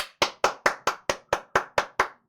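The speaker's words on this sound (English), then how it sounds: "Now I'm going to clap 10 times." A single person claps their hands ten times in an even, deliberate rhythm, each clap sharp and close with a short decay and silence between.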